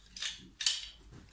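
A car starter's bendix drive clamped in a pipe wrench is turned by hand, giving two crisp metallic ratcheting scrapes in quick succession, close and clear with no talking.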